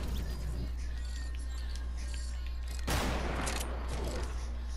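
Gunfire in the Fortnite video game: a sudden loud burst of shots partway through, over a steady game hum and background noise.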